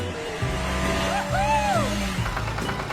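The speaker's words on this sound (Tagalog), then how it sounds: "Mabilis na umandar ang kotse." A cartoon toy car, a shiny red one, speeds off with a revving, rising engine whine and a squealing pitch sweep over a busy cartoon soundtrack, loud and close.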